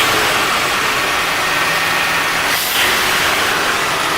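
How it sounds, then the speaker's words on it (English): A Nissan 720 truck's carbureted engine runs loud and close with a steady mid-range roar that holds nearly constant and swells slightly for a moment near the end. "Alright, give it, rev it."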